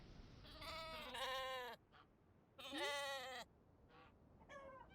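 A sheep bleats in the farming video game Echoes of the Plum Grove, several wavering, nasal calls in a row with short pauses between them, clear and fairly close against quiet background noise, with no talking.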